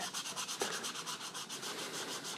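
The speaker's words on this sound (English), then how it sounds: "it takes a lot of work to sand away the plastic with this fine of a sandpaper" Fine sandpaper scrubs steadily across a 3D-printed plastic costume shell in quick, even back-and-forth strokes, a close, continuous rasp with no talking.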